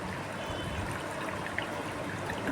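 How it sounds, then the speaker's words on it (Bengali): Water pours in a steady stream over food being rinsed in a Bengali home kitchen, a continuous close trickle and splash that holds at an even level throughout, with no talk. "একটু জল দিয়ে আমি"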